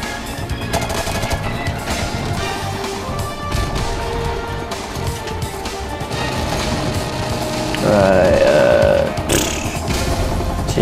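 Gunfire in the online multiplayer of Call of Duty: Modern Warfare Remastered, a steady clatter of shots and impacts running throughout, loud and close, with a brief tonal whine near the end.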